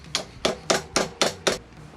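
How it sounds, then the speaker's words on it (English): A hammer strikes a metal barb into bicycle cable housing with six sharp, evenly spaced taps, close and clear, with no talking. "you hammer it in"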